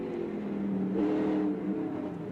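Stock cars from the 1996 AC-Delco 200 race hard through turns 3 and 4, a continuous loud engine drone that swells briefly midway as cars close in, with no voices over it.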